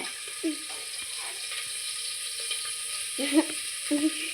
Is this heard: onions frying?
yes